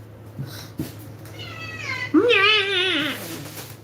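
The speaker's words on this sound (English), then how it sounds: "This is the villager's cat." Kiki, a pet cat in a village, gives a thin, rising meow and then a louder, drawn-out, wavering meow close by, with a couple of faint knocks just before.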